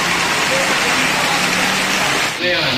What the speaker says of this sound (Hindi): बारिश बहुत तेज़ हो रही है